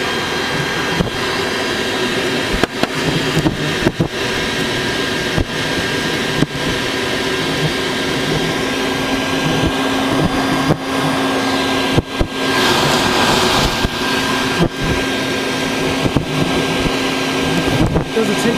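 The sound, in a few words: vacuum cleaner sucking up bald-faced hornets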